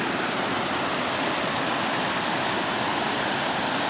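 Creek flowing along a river through pine woods, a dense, even rush of running water, loud and close, filling the whole span with no voices or breaks.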